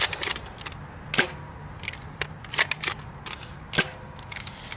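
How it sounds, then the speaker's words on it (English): A Buzz Bee Ultra Tek Wizard toy blaster fires normal Elite foam darts in a series of sharp, snapping pops with short gaps between shots, close and fairly loud, mixed with faint mechanical clicks from priming. "now we're shooting the Buzby Wizard with normal elite darts"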